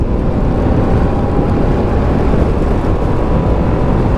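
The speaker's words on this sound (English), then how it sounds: "So right now I'm running in this Ducati, 309 miles into it" A Ducati Streetfighter V2S being run in at about 309 miles roars steadily while riding, its loud, constant engine drone heavily mixed with buffeting wind noise and no break.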